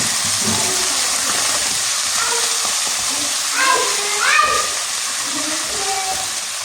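Half a kilo of peas goes into cubed meat cooking in a pan, raising a loud, steady sizzle with brief clatters and bubbling, while a voice talks faintly underneath.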